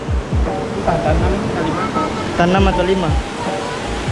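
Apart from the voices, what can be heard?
waterfall, Langkuik waterfall in West Sumatra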